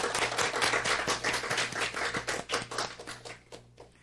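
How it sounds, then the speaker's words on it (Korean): Church congregation clapping together to welcome newcomers during a Sunday service, a steady run of many hands applauding for several seconds over a low hum from the room, fading slightly toward the end. "우리 다 같이 박수로 환영하겠습니다."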